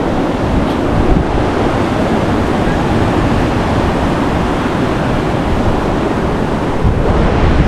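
Ocean waves crash against rocks on the beach at Hawke's Bay in a loud, continuous surging roar, with wind buffeting the microphone close up.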